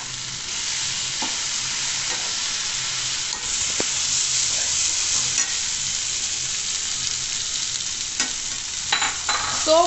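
Chopped cabbage fries in a hot pan at home, a loud continuous sizzle with scraping stirs and occasional clicks of the utensil against the pan, close and steady throughout.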